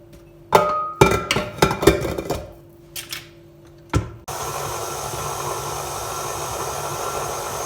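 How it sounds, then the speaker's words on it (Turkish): An electric mixer beats scone dough of flour, baking powder and soda in short clattering bursts against the bowl, then runs in one steady loud whir to the end. "Ve tekrar mikser alacağım."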